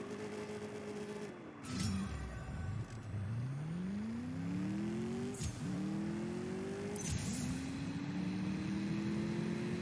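A Mercedes-AMG S 63 Coupe engine in the CSR2 racing game revs through its gears on a dyno, pitch climbing with each sharp shift, loud and steady throughout.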